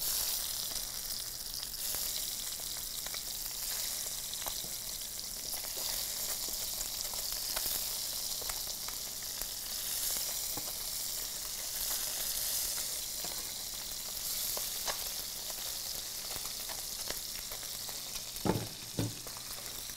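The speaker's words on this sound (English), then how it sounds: "now the oil's heated, and we're just gonna take our tongs and our legs and just transfer them in" Frog legs sizzle in hot oil in a pan, a constant bright frying hiss with faint crackles that runs the whole time, ending in two sharp clacks of tongs near the end, with no talking.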